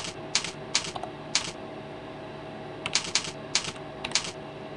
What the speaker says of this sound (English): you need to type it in